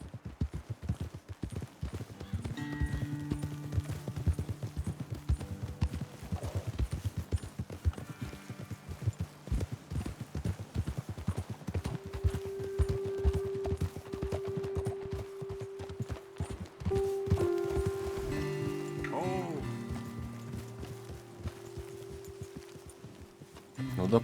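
Horse hooves clip-clop at a walking pace in Red Dead Redemption 2, with a soft neigh and light rustling as the animals move along at close range.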